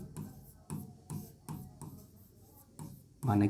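Pen writing on paper while working a Class 10 math problem, a series of short regular scratching strokes close up, ending in a brief louder rustle.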